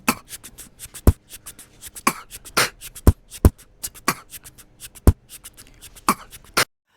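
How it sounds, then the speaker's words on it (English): A shaker rattles in a steady rhythmic groove, bright swishy hits with some stronger accents, played alone and fairly close. "here's what the first shaker sounds like"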